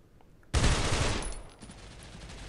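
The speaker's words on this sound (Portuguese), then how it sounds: "Os caras dando tiro e caminhando à minha volta" Rapid burst of gunfire in the video game Cops erupts suddenly and loud, a dense fusillade of shots lasting about a second before fading into a lingering, quieter rattle.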